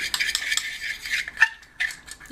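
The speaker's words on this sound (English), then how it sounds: "You just have to keep stirring and stirring." A spoon stirs powdered medicine into a pet rat's food in a dish, giving steady, close scraping and clinking strokes in a quick repeating rhythm, with no voice over it.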